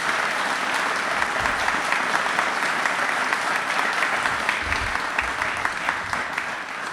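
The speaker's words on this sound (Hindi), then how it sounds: "तालियां एक बार जोरदार हो जाएं प्लीज।" Loud, sustained applause from a studio audience at a televised Republic Day quiz show, a dense steady clatter of clapping that holds for several seconds without letting up.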